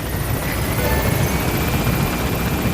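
Helicopter arriving for an extraction at a landing zone in the video game Metal Gear Solid V: The Phantom Pain, a steady close rotor and engine drone filling the whole stretch with no pauses.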